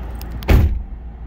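The door of a 2008 Ford Mustang shuts with a single solid thump up close, a short, heavy slam that dies away quickly into quiet.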